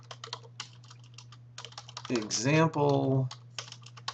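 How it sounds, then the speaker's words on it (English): Computer keyboard typing heard as scattered clicks and short bursts, fairly close, with a person talking over the middle of the stretch while the keys keep tapping around the speech. "I can type here, example email link."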